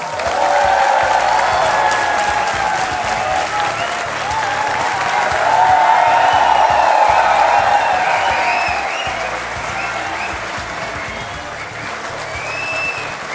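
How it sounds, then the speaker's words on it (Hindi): A television studio audience applauds as a chief minister of Punjab is welcomed onto a courtroom-style interview show: loud, dense, sustained clapping with some crowd noise, swelling and easing over thirteen seconds. "और ये तालियां इसी तरह बजती रहें"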